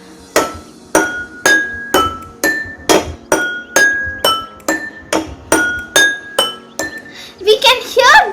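Water-filled glasses of a jal tarang are struck one at a time with a sketch pen, about fourteen bright ringing clinks at a steady pace and varied pitches, followed by a brief voice at the end.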